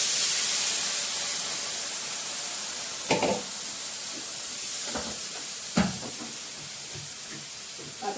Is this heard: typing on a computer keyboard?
no